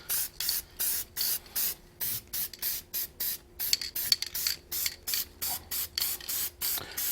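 Short repeated bursts of spray paint hiss from an aerosol can as a Yoder smoker is given light touch-up coats, about a dozen evenly spaced puffs close by, each separated by brief pauses, no talking.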